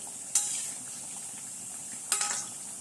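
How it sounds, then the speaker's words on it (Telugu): Egg bajji frying in hot oil, a steady faint sizzle broken by two brief louder crackles or utensil scrapes, with no voices. "ఇలా బాగా రెండు వైపులా వేయించుకోవాలి"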